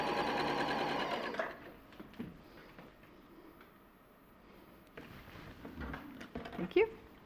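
A sewing machine chain piecing fabric whirs in a dense, fast stitching burst for about a second and a half, then stops while people talk quietly, with a few clicks and handling noises.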